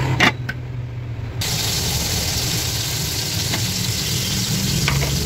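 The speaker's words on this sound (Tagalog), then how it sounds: "kuluan na yung ating pinapakuluan" A covered pot of dinengdeng, an Ilocano vegetable stew with fish, boils and sizzles as a steady, close hiss that runs almost without a break, preceded by a brief lid clatter.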